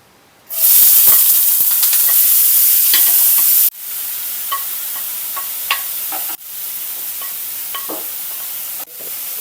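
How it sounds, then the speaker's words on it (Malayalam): An onion and curry leaf mixture for anchovy fish cutlets sizzles loudly in hot oil, the hiss stepping down in stages as it settles, with occasional stirring clinks and scrapes close by. "നമ്മളൊന്നും കൂടെ ഇത് വഴറ്റിയിട്ടാണ് നമ്മൾ ഇത് ഉണ്ടാക്കാൻ പോകുന്നത്."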